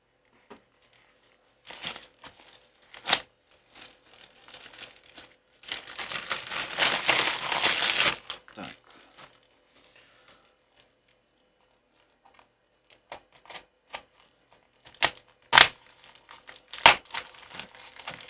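Plastic packaging of a parcel from China crinkles and tears up close in bursts, with a longer ripping stretch in the middle and scattered sharp rustles and clicks of tape after quiet pauses.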